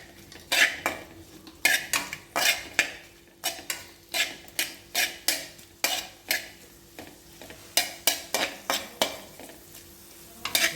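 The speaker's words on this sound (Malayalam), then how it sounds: "2 ടേബിൾ സ്പൂൺ വെളിച്ചെണ്ണ ചേർത്തതിന് ശേഷം നമ്മൾ ഉള്ളി, പച്ചമുളക്, ഇഞ്ചി എല്ലാം ഒന്ന് നല്ലതുപോലെ" Onion, green chili and ginger sautéing in coconut oil while a utensil stirs and scrapes the pan in a steady run of rhythmic strokes, close and fairly quiet, with faint frying beneath and no voices.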